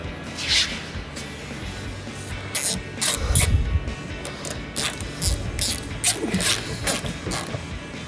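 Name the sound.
ratchet tightening 7mm screws on truck fender well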